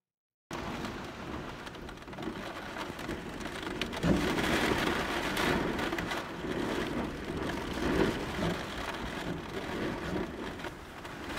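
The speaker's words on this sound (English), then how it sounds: "This is the windiest storm I've ever been in with the van." A heavy windy rainstorm batters a camper van, with dense steady rain drumming on the roof and gusts swelling and fading across the whole stretch, heard from inside and close.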